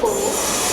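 A train hauled by a WAP4 electric locomotive arrives, its steady close rumble and hiss of passing railcars filling the moment with a brief squealing tone near the start.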